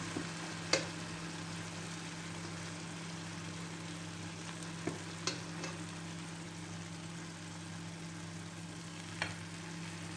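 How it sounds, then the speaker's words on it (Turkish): Cold syrup poured over hot fried kadayif gives a soft, steady sizzling hiss throughout, with a few faint clicks and taps scattered over a low background hum. "Şimdi soğuk şerbetimizi kadayıflarımızın üstüne koyacağız."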